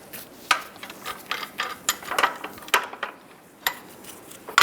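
Repeated metallic ratcheting clicks as a spring compressor is loosened on a 1998-2010 Volkswagen Beetle strut, close and crisp bursts in an irregular rhythm over a faint background.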